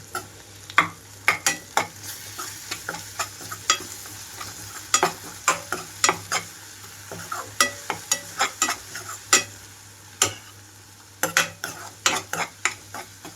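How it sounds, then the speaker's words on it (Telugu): Ginger garlic paste frying with onions in a pan for a mushroom fry, a constant sizzle broken by frequent sharp scraping and clinking strokes of a spoon stirring against the pan, close and fairly loud with no talking. "అల్లం వెల్లుల్లి అంతా వేగే వరకు ఉండాలి"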